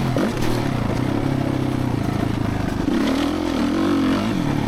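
Suzuki RMZ450 dirt bike engine revving hard after a landing, a loud, close, sustained buzzing roar that dips briefly and then climbs again.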